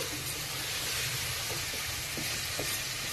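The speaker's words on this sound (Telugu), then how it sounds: "ఇప్పుడు దీన్ని 1 నిమిషం పాటు బాగా ఇలా అన్ని కలిపి" Onion and garlic curry mixture being stirred in a pan, a steady sizzle with faint scraping and stirring strokes running throughout at moderate volume, no voices.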